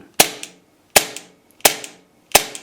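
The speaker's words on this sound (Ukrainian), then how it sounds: "як бачите, ми стріляємо, кульок в магазині зараз немає." A Walther PPK/S airsoft gas blowback pistol fires empty with no BBs loaded: four sharp, loud cracks, each with a quick echoing slide snap, spaced roughly evenly apart.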